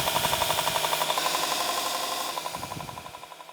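A grinder works tungsten off a knife blade with a steady, rapidly pulsing buzz, loud and close throughout, easing slightly toward the end.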